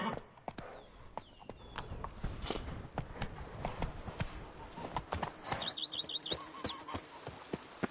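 Roach the horse's hooves clip-clop in a steady walking rhythm in The Witcher 3, close and fairly loud over faint ambient game sounds, with a few brief chirps near the end.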